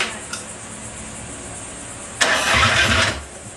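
Engine cranked over and fired up during a home engine build, a brief starter burst followed by a loud catch and rough, rising run for about a second before settling, close by with no talk.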